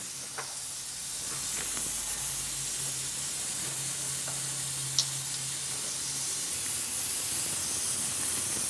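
Cooking oil heating in a pan for tempering a South Indian dish gives a steady, fairly quiet sizzle and hiss, with a faint clink from the pan partway through.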